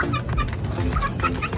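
Native heritage chickens cluck over and over at close range in an open farm area, short busy calls overlapping with no break.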